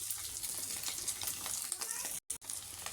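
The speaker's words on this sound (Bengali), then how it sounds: "দেখেন কত সুন্দর ভাজা হয়েছে" An egg fries in a pan on a gas stove turned down low, giving a steady, close crackling sizzle throughout, broken briefly near the end by a short silent gap.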